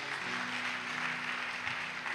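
A church congregation at a worship service applauding, steady dense clapping that fills the room throughout with a faint voice underneath.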